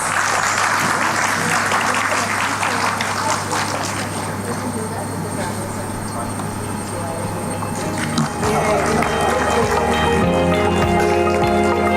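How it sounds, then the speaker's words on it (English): An event audience gives the winning team a sustained round of applause on stage. A steady hum and tonal sounds run underneath, with some talking heard. "Can we have a huge round of applause for the winning team"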